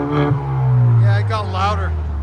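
Kia Stinger 2.0L four-cylinder turbo with a Carven R-Series exhaust in sport mode, a steady loud exhaust drone with a brief rise in pitch, heard near and mixed with a voice talking.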